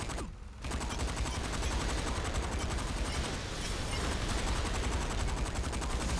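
Gunfire in the Saints Row IV video game, a loud, relentless burst of rapid automatic shots after a brief quieter moment at the start, steady and close with no voices.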